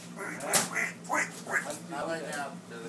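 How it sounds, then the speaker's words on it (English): Duck quacks come in short nasal bursts, several across a few seconds, fairly close, with people talking over and around them. "Give me a quack quack."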